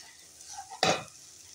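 Chicken seasoned with salt, sugar and Kashmiri chilli powder is stirred in a pan: a faint sizzle, a couple of soft scrapes, then one louder sharp scrape of the spoon against the pan near the end.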